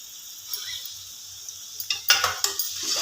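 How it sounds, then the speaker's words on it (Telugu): A spoon stirs mutton curry with tomatoes in a pot, first with soft quiet scraping and then with several sharper clinks and scrapes against the metal near the end. "నెక్స్ట్ కలుపుకోవాలి, టోటల్గా కలుపుకోవాలి."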